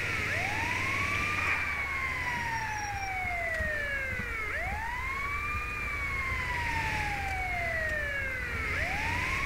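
A video game police siren on a Metropolitan Police Mercedes Sprinter in GTA V wails in repeated rising and falling sweeps, steady and clear with a faint engine rumble underneath.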